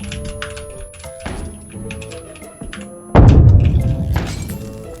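A grenade blast in PUBG Battlegrounds lands as a sudden loud, broad burst that rumbles and fades over the next seconds, following quieter gameplay clatter and thuds.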